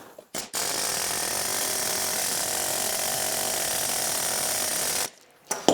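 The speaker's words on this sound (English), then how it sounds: "First, I'm gonna try the machete with the air hammer." Air hammer driving a machete to split scrap motors for copper, a loud continuous rattling hammer burst lasting several seconds between short pauses.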